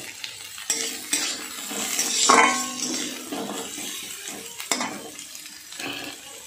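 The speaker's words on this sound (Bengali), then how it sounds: "এবার ওই তেলেই একটু পেঁয়াজ ভাজা ভাজা করে নিচ্ছি।" Onions frying in the same oil just used for cumin, for a mashed banana-flower dish: a steady sizzle with stirring scrapes and a few utensil clinks against the pan, close and fairly loud, with no talking.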